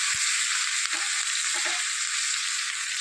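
Onions, tomatoes and green chillies sizzle steadily in tempered oil with asafoetida, a dense continuous frying hiss with a couple of soft knocks near the start, no talking.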